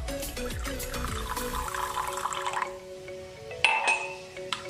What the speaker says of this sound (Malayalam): ഇനി ഈ മിക്സിയിലേക്ക് നമുക്ക് 1/4 കപ്പ് വെള്ളം ആഡ് ചെയ്യാം.